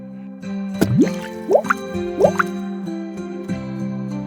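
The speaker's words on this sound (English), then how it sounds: "His tears dropped on the ground" Several watery drips and plops fall one after another at an unhurried pace, clear and close over a faint sustained musical drone.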